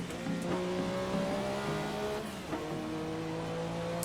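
Race car engine in a racing game, steady droning revs with shifting pitch and tire noise as the car works through a series of corners, with no talk.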